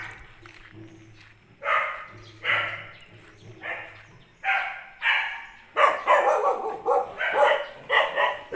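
Several dogs bark in an alley in Siem Reap, Cambodia, sharp repeated barks coming in bursts, close and loud, growing denser toward the end with overlapping yips, while a low hum sits underneath at first.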